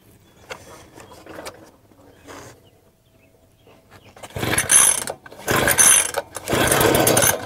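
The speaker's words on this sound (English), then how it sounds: "Pull starter cord 3 to 5 times until initial ignition is heard." A Wild Badger 53 cc garden tiller engine is pull-started. A few light cord pulls and rattles come first, then it catches in loud, close bursts of small two-stroke engine roar with brief gaps between.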